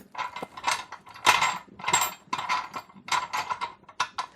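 Clamps on a resin pressure pot are tightened down, giving close, repeated metallic clicking and grinding bursts in uneven rhythm, with short pauses between turns.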